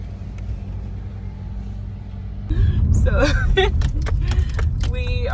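Car reversing down a steep mountain road near volcanoes in Guatemala, a steady low engine rumble from inside that grows louder midway, with people talking over it.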